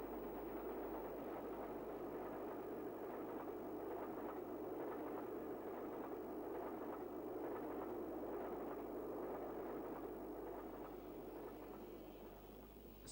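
BR 9F steam locomotive working a passenger train, its exhaust heard as a continuous distant rumbling beat over a steady low hum, fading slightly at the end.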